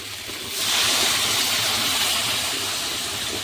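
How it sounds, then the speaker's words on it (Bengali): Water pours into a cooking pot for boiling potatoes, a steady, close rushing splash that starts abruptly and continues evenly, with no speech over it. "পরিমাণ মতো কিন্তু জল দিয়ে দেবো"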